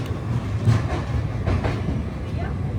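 A long-distance passenger train rolls out of Secunderabad railway station, a steady low rumble with faint rhythmic wheel clatter, heard close from on board or on the platform, with some voices in the background.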